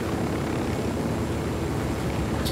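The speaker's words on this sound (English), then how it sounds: "Ooh, a plane." In Ghost Recon Wildlands, an airplane drones overhead with a dense, steady, loud engine rumble lasting a few seconds, and no voices are heard.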